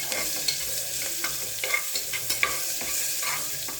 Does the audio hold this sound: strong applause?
no